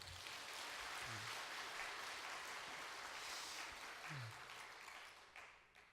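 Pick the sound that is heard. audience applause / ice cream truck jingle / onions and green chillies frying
audience applause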